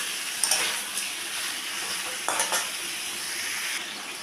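Chicken frying with a large chopped, cubed tomato in a pan, giving a steady close sizzle with occasional stirring scrapes and light clinks of a utensil against the pan.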